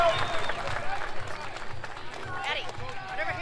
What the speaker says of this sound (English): Hey, and also a big round of applause for his opponent, Isaac Gonzalez.